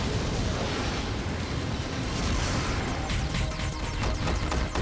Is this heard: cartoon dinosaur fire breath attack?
yes